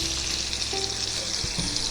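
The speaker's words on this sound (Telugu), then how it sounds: "నెయ్యి మరిగిన తర్వాత కట్ చేసిన పన్నీర్ క్యూబ్స్ని కూడా వేసి ఫ్రై చేయాలి" Paneer cubes frying in hot ghee make a brief, steady sizzle up close, with a faint spoon clink near the end.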